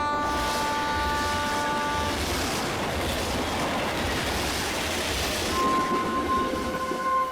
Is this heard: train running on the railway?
yes